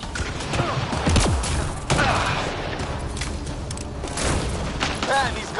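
Gunfire in the Mass Effect video game crackles in sustained volleys with a few heavier booms, loud and close, while battle voices shout over it.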